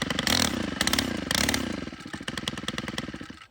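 A Stihl HL90K hedge trimmer's gas engine runs close by with its blades jammed and clutch not spinning, roaring and sputtering unevenly with rattling clatter, rising and then settling into a rough idle.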